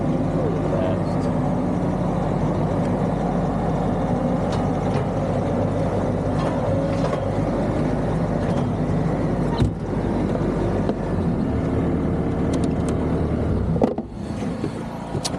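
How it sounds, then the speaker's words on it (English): A skid steer loader engine runs steadily nearby, producing a constant loud rumbling drone that dips briefly near the end. "Man, skid steers are the best."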